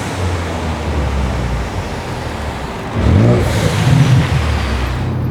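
A Ford 3.5 EcoBoost twin-turbo V6 with a manual transmission, swapped into a 1969 Mustang, drones steadily and then swells briefly as it spools up and settles again, loud and close with no talk.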